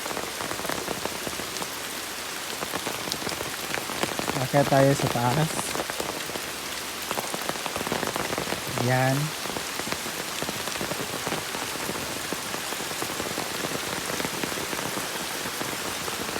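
Heavy rain pours steadily on surfaces outdoors at Litalip, a dense continuous hiss, with brief bits of someone talking over it.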